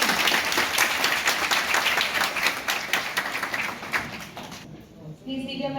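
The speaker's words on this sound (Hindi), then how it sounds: "तालियां हो गई।" An audience at a municipal International Women's Day celebration claps in a dense, sustained burst of applause that cuts off sharply near the end, followed by a brief voice.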